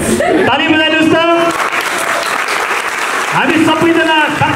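An audience claps together in a broad burst of applause, loud and close, with a voice speaking over it at the start and again near the end.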